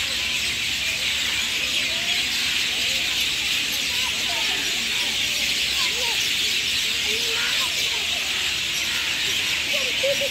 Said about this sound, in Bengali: তোমরা শুধু শোনো সেই পাখির কলতানটা